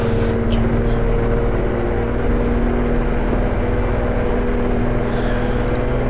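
Car driving in the Roblox game Southwest Ohio, a steady, continuous engine drone with a low hum that holds even and unbroken throughout, with no talk over it.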